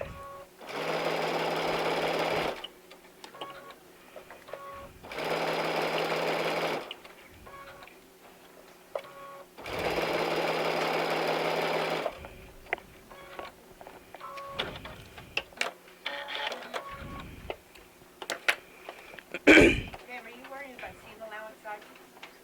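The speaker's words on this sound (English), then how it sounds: "Okay, so I'm sewing with that." A sewing machine stitches folded fabric in three steady bursts of about two seconds each, separated by pauses; someone talks in between and afterward, with handling clicks and a sharp knock near the end.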